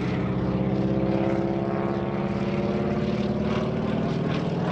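A propeller airplane flies a roundhouse loop at an airshow, its engine a steady, fairly distant droning hum that holds evenly throughout, with no voices.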